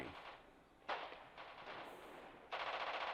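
A gunfire barrage in a radio drama, with dense, continuous rattling bursts that swell and surge in waves over about three seconds, heard alone with no voices.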